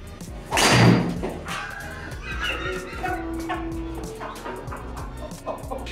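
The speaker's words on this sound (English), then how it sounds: "opening tee shot, my buddy sculled one. We got a ricochet." A golf ball mishit off the opening tee shot in a home-built simulator ricochets off the enclosure's cross member, a loud sharp thud followed by clattering and rattling as it bounces around the frame.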